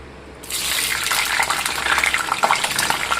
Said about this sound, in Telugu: ఇది నూనె కాగింది ఇప్పుడు దీంట్లో మనం పచ్చిమిరపకాయలు వేసేద్దాం